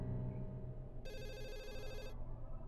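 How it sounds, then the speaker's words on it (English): A telephone rings in the Ju-On: The Grudge Wii video game, a bright electronic trill lasting about a second over a low, steady background hum. "Please answer the fucking phone."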